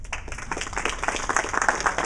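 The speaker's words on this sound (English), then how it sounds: "I think the organizer really deserves good applause." An indoor audience at a green expo event claps for the organizers, a close, dense burst of applause that holds steady and swells slightly toward the end.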